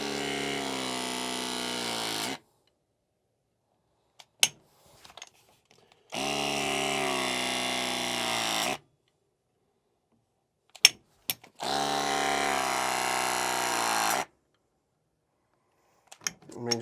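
An RLS press tool crimps a refrigerant line fitting in three loud, even whirring cycles of about two and a half seconds each. Short silent gaps between them hold a few small clicks and taps.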